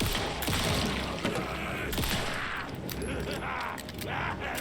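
Gunfire from the Alan Wake II video game: a run of sharp, loud shots and bursts set over a dense, noisy game backdrop, with a player's voice faintly mixed in.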